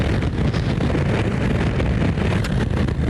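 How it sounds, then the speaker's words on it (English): Strong wind buffets the microphone outdoors at an airfield wheelie practice session, a loud, steady, broadband roar with constant gusty rumble and no clear talk. "It's really windy out here though,"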